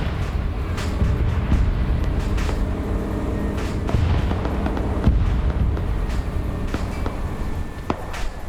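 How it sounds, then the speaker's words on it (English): Combat rumble in a World War II German-versus-Soviet video game, with booming blasts and scattered impacts over a continuous low roar, loud and close, with a heavier hit near the middle; no talking. "AD literally got blown up right there"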